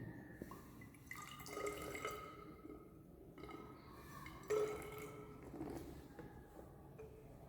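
About 20 ml of water poured into a laboratory measuring cylinder gives a faint, quiet trickle with scattered drips, heard alone and close by.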